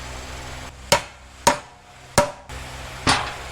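A bolt is hammered through a drilled hole in wood during a mobile trailer foundation build, four sharp metallic strikes spaced about half a second apart, close and clear with brief ringing decay.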